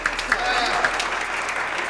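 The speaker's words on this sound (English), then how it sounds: "Always clap the artist." Audience applause at a demoparty graphics showcase, a short burst of steady clapping with a voice talking over it.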